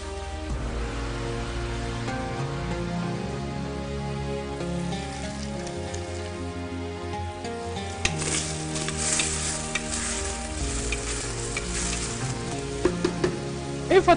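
Onion and garlic frying in a pan for Oued Souf couscous, a continuous close sizzle and crackle that grows busier with sharper spits toward the end, no speech.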